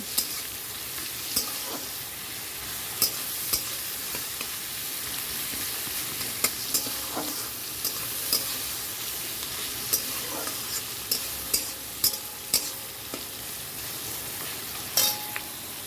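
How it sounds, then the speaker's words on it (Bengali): Sliced onion frying in hot oil with dried red chilli and bay leaf, a steady hiss of sizzling with repeated sharp clinks and scrapes of a spatula stirring the pan, no talking. "এখানটায় ফোড়ন দিলাম শুকনো লঙ্কা আর তেজপাতা দিয়ে দেখো পেঁয়াজটা দিয়ে দিলাম"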